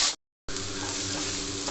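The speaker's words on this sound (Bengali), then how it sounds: "পেঁয়াজটা একটু সুন্দর করে ভেজে নেব।" Onions frying in a pan crackle and hiss steadily at close range after a brief silent gap at the start.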